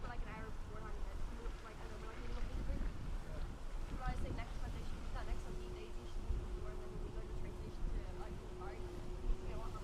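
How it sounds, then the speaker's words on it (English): Breezy wind at Dublin Airport buffets the microphone in a steady broadband rush with gusty low-end rumble, while a person speaks over it throughout. "So definitely breezy here, but I'm well layered up."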